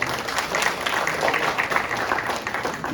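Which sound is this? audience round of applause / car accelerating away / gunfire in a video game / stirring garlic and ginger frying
audience round of applause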